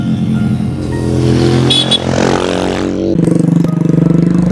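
Motorcycles pass along a road near Larantuka, engines droning loudly and close, one rising in pitch before another steady engine note takes over.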